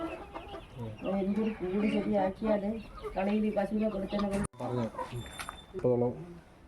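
A hen clucks repeatedly while laying eggs in a farm coop, its rhythmic calls close and loud with other fowl sounds around it.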